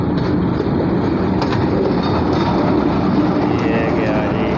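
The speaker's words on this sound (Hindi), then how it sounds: "ये देखें जी PH20 8322 ज़बरदस्त लोकोमोटिव।" Pakistan Railways locomotive PH20 8322 hauls the Millat Express through Samanabad railway station, a loud, steady, close rumble of engine and wagons that fills the whole stretch without letup.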